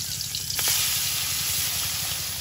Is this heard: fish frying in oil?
yes